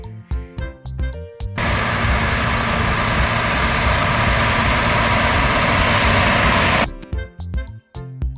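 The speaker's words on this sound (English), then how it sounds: "Tractor. This is tractor." A tractor engine runs steadily and loud for several seconds, a continuous heavy rumble that starts abruptly and cuts off just as suddenly, with speech before and after it.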